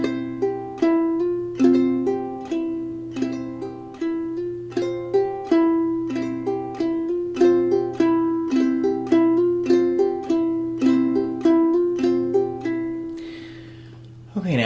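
A ukulele played clawhammer style repeats a measure with a hammer-on and a ditty several times, bright plucked notes in a steady bouncing rhythm, close and clear with no talking.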